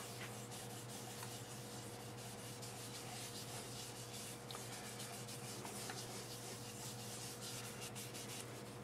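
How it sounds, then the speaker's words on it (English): Steady soft rubbing and wiping of a cloth spreading water-based sanding sealer over turned wood, continuous and close, with a faint constant hum underneath. "Just going to wipe it on with this cloth."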